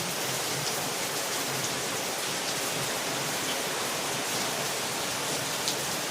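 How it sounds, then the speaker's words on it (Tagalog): Heavy rain pours down in Pasig, Philippines, in a dense, steady hiss, loud and unbroken with no voices. "Ayan, lakas ang ulan."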